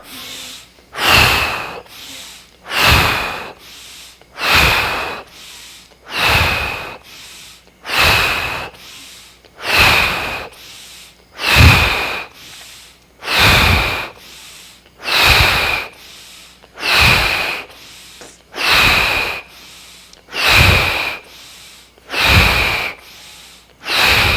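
A person does a rhythmic breathing exercise, about fifteen forceful breaths in an even, regular pattern, each sharp inhale and exhale loud and close with brief gaps between.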